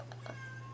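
A cat gives a short, faint meow or two close by, soft against a steady low hum, lasting under a second.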